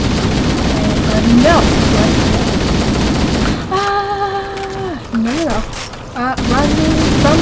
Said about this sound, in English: You're still exploding and popping in the air.